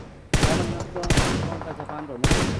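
Rapid automatic gunfire from a player lying prone in PUBG Mobile: three loud, close bursts with rattling shots packed between them, dense and punchy throughout.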